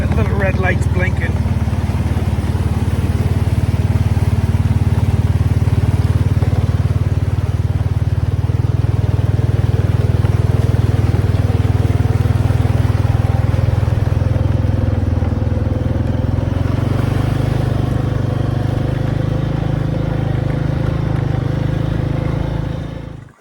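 A Honda ATV engine runs steadily while riding along a beaver trapping route, a loud continuous low drone with little change in pitch, with talk over it at times.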